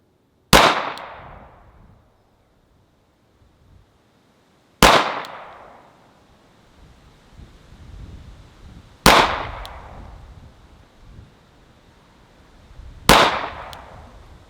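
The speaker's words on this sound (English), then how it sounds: "we're going to let her shoot here again at 5 yards" Four loud, sharp pistol shots ring out one at a time at about four-second intervals on a shooting range with a target at 5 yards, each followed by a brief echoing decay and quiet in between.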